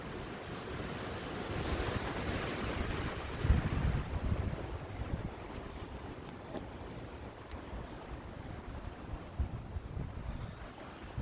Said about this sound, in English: I'm sure you hear the wind blowing, which has been blowing all day.